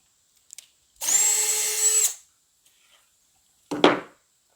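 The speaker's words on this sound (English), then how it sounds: "a good center place to drill the hole in the center for the hub" A power drill bores the center hub hole in a 36-inch wooden wheel for a replica Chinese wheelbarrow, with about a second of loud whining drilling, a pause, then a brief second burst.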